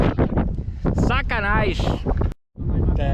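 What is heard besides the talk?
strong wind blowing at a speed flying launch site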